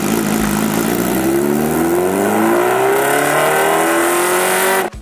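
A Kawasaki H2R track-only motorcycle accelerating hard, its engine note rising steadily in pitch through a long continuous pull, loud and close, before cutting off abruptly at the end.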